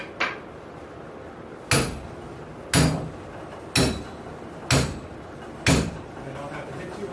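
A homemade treadle hammer built from junk parts strikes metal during blacksmith decorative work, six sharp, evenly spaced ringing blows about one second apart, close and loud over quiet background.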